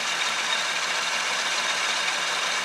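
A 1966 Chevrolet C10 engine idles at about 800 RPM with a steady, even rumble and hiss, close and constant throughout.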